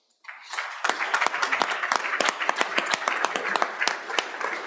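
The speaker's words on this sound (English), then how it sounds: "Let's give them a round of applause." Lawmakers and guests in the Wyoming House chamber break into applause, starting abruptly and building into dense, close clapping with sharp individual claps standing out.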